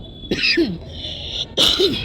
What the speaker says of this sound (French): il fait un peu frais aujourd'hui, donc je tousse déjà un peu